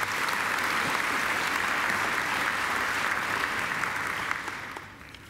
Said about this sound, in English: So I think Mark deserves another great round of applause.